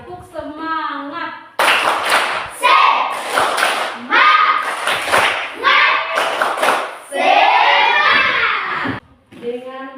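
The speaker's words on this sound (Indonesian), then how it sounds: "Tepuk semangat." A class of children in Indonesia doing a rhythmic spirit clap, loud close bursts of patterned clapping in quick groups, mixed with children's chanting voices between and over the claps.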